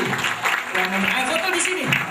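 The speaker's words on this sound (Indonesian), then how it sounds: "tepuk tangan lagi" Children applauding at a children's revival service, a short burst of clapping mixed with voices talking over it.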